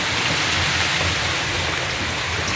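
Heavy typhoon rain pours down in a dense, steady roar, loud and close throughout with no letup and no voices.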